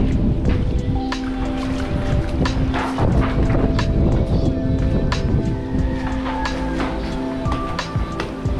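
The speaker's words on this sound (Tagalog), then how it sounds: "medyo malakas pa yung hangin" Strong wind from Typhoon Rolly roars steadily against the microphone, broadband and gusty, with vehicle-like rumble and faint voices in the background, in San Antonio, Tabaco, Albay, Philippines.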